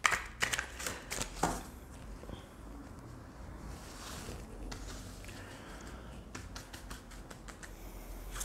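A deck of cards is shuffled and cards are drawn at home, with quick riffling bursts and snappy flicks near the start, then soft scattered card handling and slides over a quiet background, no talking.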